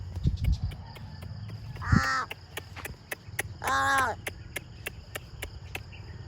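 Two harsh crow caws a couple of seconds apart, fairly close, over steady insect chirping and faint background noise, while cattle are herded.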